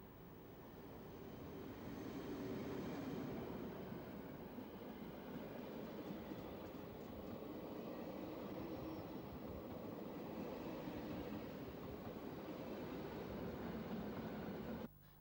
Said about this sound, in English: This train is destined for St. Valentin on the main line towards Linz.